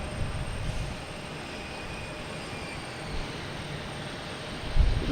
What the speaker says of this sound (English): The JetBlue here backing out.